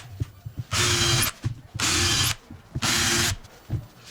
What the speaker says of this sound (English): so now I need to drill these out.